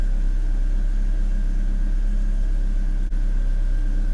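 A BMW E46 engine idles steadily close by, an even low rumble with a faint constant whine above it, continuous and unchanging throughout, no voices.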